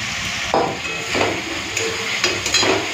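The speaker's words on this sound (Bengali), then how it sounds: "এরপরে চলুন ভেজে রাখা ডিম আর আলুটা দিয়ে দিই।" Fried egg and potato drop into a pan of sizzling spiced masala, bringing several sharp clatters of a spoon against the pan over a continuous loud sizzle.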